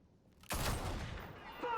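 One loud, close gunshot from Batman: The Telltale Series blasts suddenly and trails off in a lingering reverberant tail.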